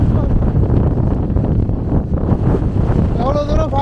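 Strong wind roars across the microphone on a foggy, rainy mountain trek near Kudremukh, a dense continuous rush of low buffeting noise throughout, with a faint voice briefly audible near the end.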